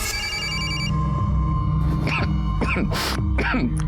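A telephone rings in a tense crime drama scene, an electronic ring pattern near and clear, with short breathy vocal sounds and other noises breaking in over the last few seconds.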